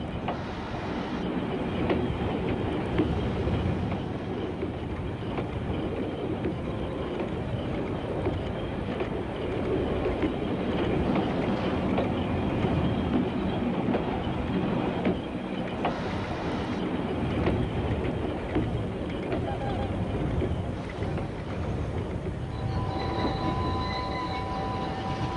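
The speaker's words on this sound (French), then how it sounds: "Le chasse-neige rotatif à vapeur fait la première passe pour creuser une tranchée dans la neige." A steam rotary snowplow train on the Bernina line cuts a trench through snow, grinding and rumbling steadily and loudly throughout, with a few high whistling tones near the end; no voices.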